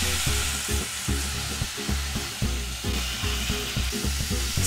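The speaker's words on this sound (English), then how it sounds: "When things start sizzling, keep stirring, making sure the bacon doesn't stick." Bacon sizzles steadily in a pot while it is stirred for pork with salted vegetables, with a rhythmic scraping of the spoon every half second or so, close and fairly loud, with no talking.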